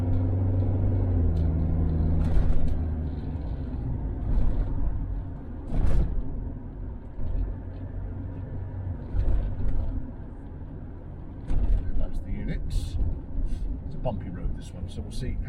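A Range Rover Classic P38 with air suspension rumbles along on a test drive, the engine note swelling under full throttle and then settling into a low road drone, with someone talking over it.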